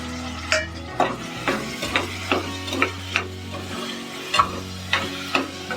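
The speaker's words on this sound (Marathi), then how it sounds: "आता गॅस थोडा फास्ट करते आणि टमाटे घालते" Tomatoes frying in a hot pan on a raised gas flame, giving a moderate sizzle broken by regular knocks and scrapes of a spoon stirring roughly once a second, close up, with a low steady hum beneath and no talk.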